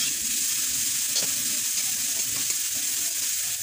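Turmeric is stirred through fish and greens frying in a pan. A continuous close sizzle runs throughout with soft scraping.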